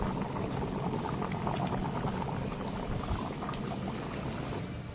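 Curry bubbling steadily in a pot over a wood fire in traditional home cooking, a continuous close boiling burble with faint pops, fairly loud and unbroken.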